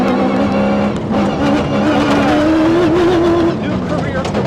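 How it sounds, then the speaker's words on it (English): Dakar rally racing vehicle in the Ford Racing video game, a loud engine drone holding steady pitch and rising slightly, with a person talking over it. "This is the Dakar racing vehicle."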